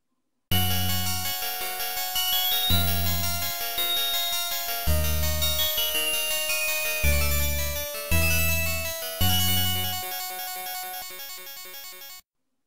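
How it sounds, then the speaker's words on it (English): Chiptune soundtrack from the TurboGrafx shooter Blazing Lasers, with bright synthesized melody lines over punchy bass notes in repeating phrases, loud and continuous with no voices. "what you just heard was one of the many amazing songs from Blazing Lasers"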